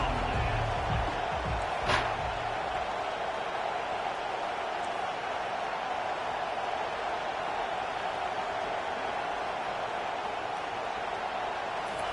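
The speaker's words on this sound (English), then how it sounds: "Here comes this home crowd as the defense tries to get off the field on third down." A home crowd at a college football game roars steadily as the defense faces third down, a dense, continuous wall of cheering heard from a distance with one brief sharp bang early on.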